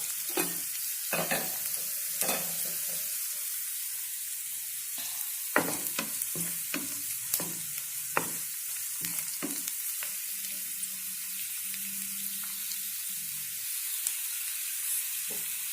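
Garlic and ginger stirred and fried in a pan, giving a steady sizzle under repeated scraping strokes of a spoon against the pan, close and fairly clear with no voices.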